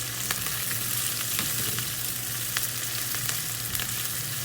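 Onions frying in a pan give a steady, fairly quiet sizzle with a few light clicks of stirring, close by and with no talk.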